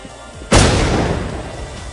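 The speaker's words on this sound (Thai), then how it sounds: "โดนระเบิดอีกแล้วครับ" A single loud video game explosion hits suddenly and decays into a long rumbling roar, with no voices over it.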